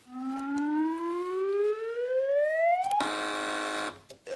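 A rising siren-like whoop swells for about three seconds, then a loud, harsh team quiz-show buzzer on Have I Got News For You blares for roughly a second before stopping abruptly.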